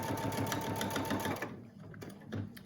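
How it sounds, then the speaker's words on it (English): A sewing machine stitching close to the edge of a surgical mask, a fast steady whirring run that stops, then resumes with a few short bursts. "I'm sewing close to the edge"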